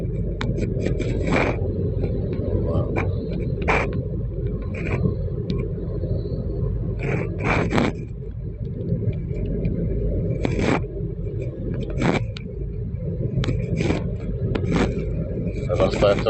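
A car driving along a road at night in Saudi Arabia makes a steady, low engine and road rumble throughout, with occasional faint scrapes, while a person talks over it.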